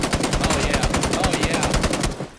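A teammate is struck by fire in PUBG during a long, fast burst of automatic gunfire. Sharp, evenly spaced shots rattle close and loud for over two seconds, then stop abruptly.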